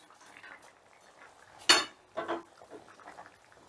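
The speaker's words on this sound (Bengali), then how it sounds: "এবারে ডিমগুলো দিয়েও গ্রেভির সঙ্গে ভালো করে মিশিয়ে নেব" A utensil scrapes and clinks against a pan while fried eggs are mixed into gravy, giving one sharp metallic knock followed by a couple of softer scraping stirs in an otherwise quiet kitchen.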